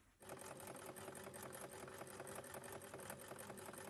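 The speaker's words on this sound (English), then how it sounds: "I'm just going to top stitch down there" A sewing machine top-stitches a fabric strap for a reversible tote bag, running as a steady, close, continuous whirring stitch rhythm that starts abruptly and carries on alone.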